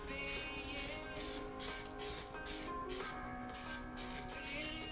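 Spray paint can hissing in repeated short bursts close up while coating bicycle rims, each spray followed by a brief pause.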